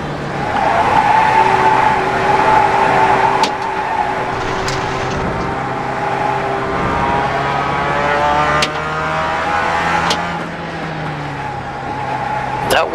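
Race car in iRacing with the engine droning and shifting pitch while the tires squeal and skid through a corner under trail braking, loud and continuous with sharp transient clicks, and someone talks over it.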